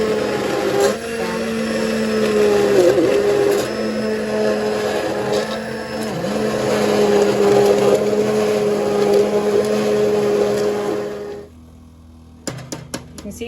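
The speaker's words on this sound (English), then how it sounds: "Our immersion blender." An immersion blender purees asparagus soup in a pot, its steady high motor whine running for about eleven seconds with slight pitch dips as it's tilted, then cutting off to near quiet with a few clinks.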